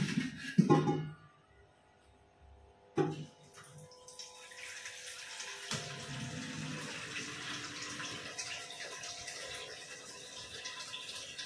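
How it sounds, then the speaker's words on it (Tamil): Tap water running into a cooking pot for rice in a home kitchen at night, starting with a few clanks before the stream settles into a steady, moderately quiet filling hiss. "தண்ணி பிடிச்சி நம்ம அடுப்பில் வைக்கலாம்."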